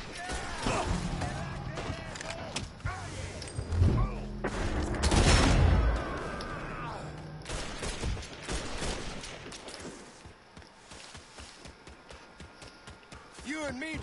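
Rapid bursts of gunfire and explosions from a multiplayer shooter video game, loud and dense through the middle, with players shouting and talking over the shots throughout.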